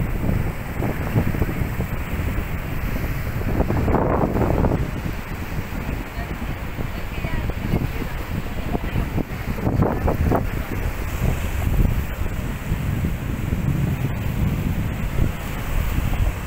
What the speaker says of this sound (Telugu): చల్ల గాలి వేస్తున్నది.